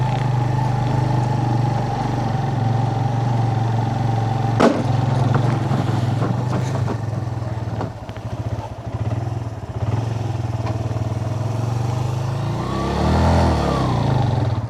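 A motorcycle on a solo tour rides a mountain road in the Hunza valley, its engine droning steadily up close with wind noise, a few clattering knocks, and a rising rev near the end.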